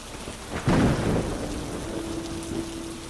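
Steady rain pours down during a thunderstorm while a loud, close thunder rumble swells early and slowly fades into the ongoing downpour.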